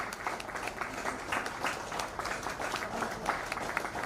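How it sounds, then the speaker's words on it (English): Audience at an International Women's Day event clapping steadily in sustained applause, a dense continuous patter of many hands filling the space without pause. "please keep clapping, keep clapping, keep clapping"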